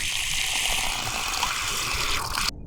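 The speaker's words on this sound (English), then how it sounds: "So if we turn the valve on, there we go, and turn the spigot on" Water gushes from an outdoor spigot on rural California land once the valve is opened, a steady loud broadband rush that holds for a couple of seconds before cutting off abruptly.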